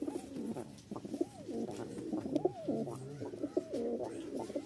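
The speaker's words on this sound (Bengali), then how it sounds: "এটা হচ্ছে সাদা ঠোঁটের দোবাজ, সাদা ঠোঁটের একটা জাগ নর।" Giribaz pigeons, a white-beaked male among them, coo close by in repeated soft, rolling calls that overlap in a steady rhythm against quiet surroundings.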